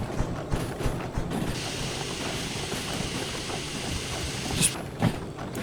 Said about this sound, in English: Shunting with a steamer.